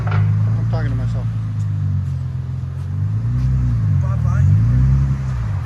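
Deep, steady exhaust rumble from a 2005 Infiniti G35 fitted with a DTM muffler, idling and rising slightly in pitch as if blipped, close and continuous with faint talk over it.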